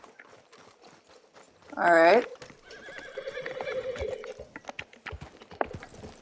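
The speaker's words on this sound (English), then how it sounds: "you're going to need to call your horse in" A horse in Red Dead Redemption 2 arrives after being called, a loud close neigh followed by steady clip-clopping hooves over ambient game sounds, with someone speaking briefly.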